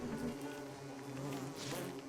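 A bee buzzes in the survival video game Don't Starve, a soft continuous drone with wavering pitch that runs for about two seconds, faint and alone with no talk.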